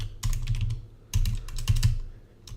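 Bursts of rapid key clicks on a computer keyboard, close and clear, in two quick flurries with a short pause between and a final few taps.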